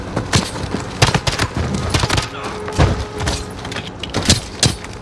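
Gunfire in the video game Modern Warfare: bursts of rapid shots and scattered single cracks come in uneven clusters, loud and close, mixed with other game noise.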